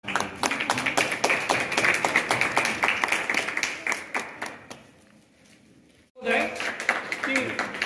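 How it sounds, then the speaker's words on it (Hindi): Loud, sustained clapping from an audience at a Republic Day honouring ceremony, dense and continuous for several seconds, dropping off briefly before resuming strongly. "जोरदार तालियों"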